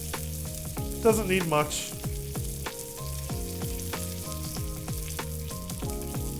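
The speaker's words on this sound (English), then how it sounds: "I'm gonna just take the tongs here and just give the sides a little bit of a sear here." Salmon fillet sides seared in a hot pan with tongs, giving a steady close sizzle and frying hiss with scattered clicks and pops, while a voice speaks briefly near the start.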